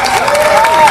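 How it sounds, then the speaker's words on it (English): Audience clapping at an E3 2013 game panel, a brief loud burst of crowd applause with some cheering mixed in. "Let's give a warm round of applause for Keith Aram."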